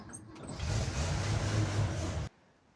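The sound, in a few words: rusty Holden Ute engine starting and running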